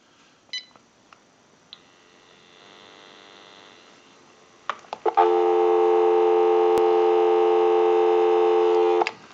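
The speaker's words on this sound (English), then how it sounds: "Go ahead and give you some dial tone." A steady, loud dial tone from a General Electric 27909 cordless telephone holds for several seconds after a few clicks and a faint hum, then cuts off abruptly.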